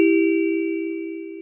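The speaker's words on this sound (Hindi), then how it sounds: "घर की घंटी बज" A single sustained electronic doorbell tone rings at a house, one clean steady note holding for over a second before it cuts off, alone and clear.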